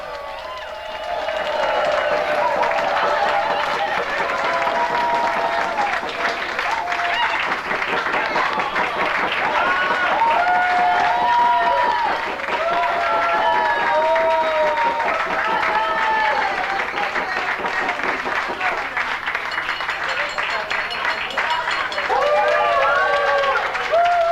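Cheering and applause rise from a crowd at the awards ceremony of an ultramarathon in Mongolia, with steady clapping, shouts and whoops sustained throughout, loud and close, mixed with crowd chatter.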